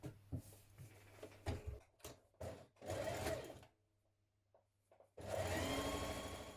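Home sewing machine stitching the underarm seam of a sleeve, several short bursts of whirring needle action broken by pauses and clicks, ending in a longer steady run.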